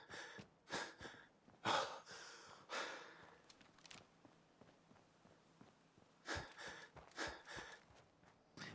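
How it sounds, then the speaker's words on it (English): Out-of-breath breathing of a Fallout 4 game character: repeated heavy gasps and sighing exhales in an uneven rhythm, fairly faint, with quieter footstep-like rustles between breaths and no talking. "Petition for the next Fallout game to remove this, like, you know, like breathing thing"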